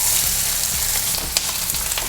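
Bay leaf, a piece of cinnamon, cloves, cardamom and a large sliced onion fry in hot oil, giving a steady, close, bright sizzle that crackles continuously without pause.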